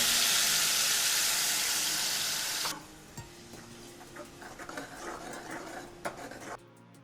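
Onion-tomato paste hitting hot oil with cumin seeds in a pan: a loud, bright, broadband sizzle for the first few seconds, then it drops to a quieter crackle and occasional stirring clatter.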